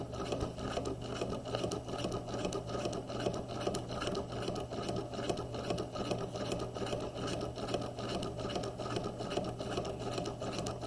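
A sewing machine runs a long basting stitch along the cap of a jacket sleeve, a steady close-up whirring hum that continues without a break for the whole stretch.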